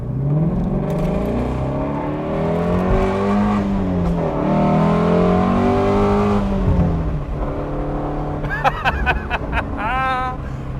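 A 2017 Ford Mustang Shelby GT350R engine accelerating hard, loud rising and falling revs through several gear changes, with tire and wind noise near the end.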